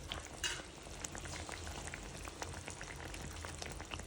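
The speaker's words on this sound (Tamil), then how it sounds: "கறி கொதிச்சு கொண்டு வருது" A pot of curry bubbling at a low boil before crab is added for a crab gravy, a steady quiet bubbling hiss with small pops, close and without talk.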